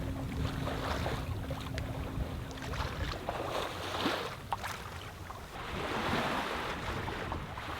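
A sailboat moving through smooth seas in a gentle breeze off Mexico's Pacific islands: steady soft wash of water along the hull with light wind noise, quiet and continuous, no voices.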